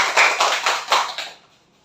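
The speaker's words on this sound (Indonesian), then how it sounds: "Oke, tepuk tangan untuk semuanya." Classroom applause from students in a school lesson: a short burst of hand clapping with several distinct claps, close and loud, then dying away into quiet.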